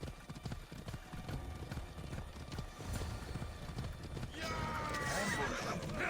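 In Assassin's Creed Odyssey, hooves clip-clop at a gallop under talking voices, then a horse gives a loud, shrill neigh near the end.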